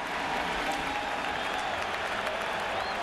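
A large baseball crowd at Shea Stadium during Game 4 of the 2000 World Series applauds in a steady, dense wash of clapping and cheering that holds at an even level throughout, with no distinct voices standing out.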